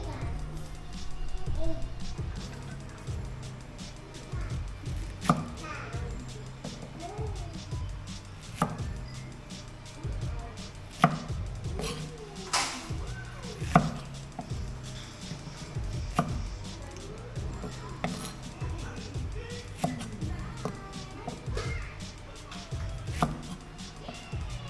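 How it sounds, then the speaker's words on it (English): A knife chops fresh Thai aubergines on a board in rural Thailand, with steady repeated knocks and occasional louder thuds, while a person talks over the chopping. "let's chop these up and then put them in, start boiling them."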